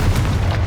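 A Confringo blasting spell explodes in the video game Hogwarts Legacy, a single brief, loud, low boom heard close up.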